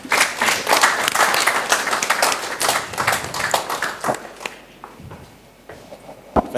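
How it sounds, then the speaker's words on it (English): An audience at a power-sector dialogue event breaks into a round of applause, dense clapping that is loud at first and then thins out to scattered claps. "a round of applause for Engineer Uwa"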